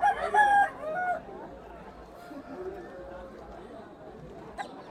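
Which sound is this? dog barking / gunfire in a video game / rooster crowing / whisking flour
rooster crowing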